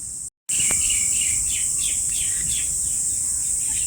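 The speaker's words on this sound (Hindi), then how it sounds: "देखो कितनी आवाज़ आ रही है पक्षियों की चहचहाने की।" Birds chirp in a park with flowering trees, a steady high insect-like trill layered with repeated brief chirps, fairly loud and continuous after a short gap at the start.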